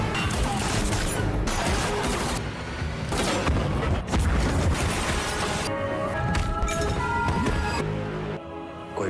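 Close-range gunfight in a film, a dense continuous barrage of gunshots, crashes and booms with music layered underneath, loud and unbroken throughout.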